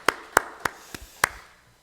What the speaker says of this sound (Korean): 칭찬의 박수 하겠습니다.